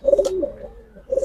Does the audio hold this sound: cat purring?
no